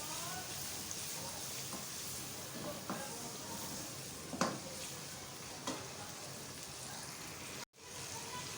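Green chillies fry in a mutton masala gravy with garlic-ginger paste, giving a steady broadband sizzle with a few scraping stirs and a brief dropout near the end.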